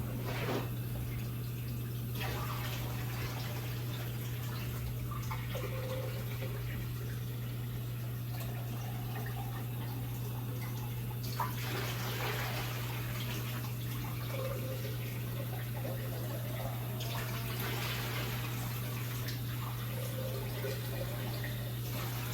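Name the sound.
water filling a blender for washing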